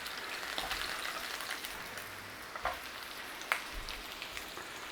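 Sausages sizzle and fry steadily in a pan for a Currywurst hot dog, a constant crackling hiss with a few sharper pops, heard close and alone.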